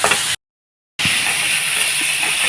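Grated coconut and carrot sauté in a pan for carrot chutney, giving a steady bright sizzling hiss that cuts out for a brief moment of silence before resuming.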